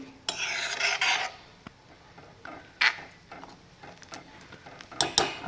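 Spoon scraping the sides of a pan of green pea curry as it is stirred, with rasping strokes in short bursts separated by quiet pauses, close and fairly soft.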